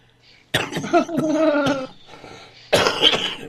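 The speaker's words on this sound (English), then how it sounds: "talk for a minute while I splutter" A man coughs and splutters in a burst of rough, throaty coughs with voiced rasping. After a short pause he gives another heavy cough. The sound is close and fairly loud, with no other background.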